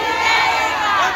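Loud, dense crowd noise from a gathering at a protest against a redevelopment project, with many voices shouting and cheering steadily throughout, filling the whole moment without a break.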